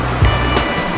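River water flowing through the palm oasis of Andreas Canyon near Palm Springs, a steady close rushing wash with a brief low thump.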